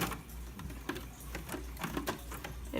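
A serger sewing machine runs at close range while finishing the end of a seam on a fabric project, giving a steady rapid mechanical clatter with short whirring bursts and no voices.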